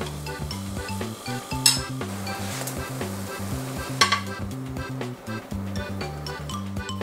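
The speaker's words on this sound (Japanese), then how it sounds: "フライパンを傾けて持って、上に振り上げると同時に右手でトンっていきます。" An omelette in a frying pan sizzles softly while the pan is tilted and tapped by hand, giving two sharp knocks amid steady cooking noise and a low tonal background.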